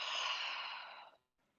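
A deep, slow exhale during a yoga flow, a breathy rush lasting about a second close to the listener, then near silence.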